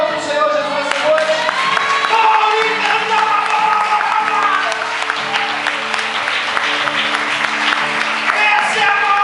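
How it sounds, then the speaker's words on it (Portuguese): A church congregation at a conference applauding, loud steady clapping and cheering blended with sustained music or voices from the hall, continuing evenly throughout. "Você pode aplaudir o Senhor Jesus nessa noite?"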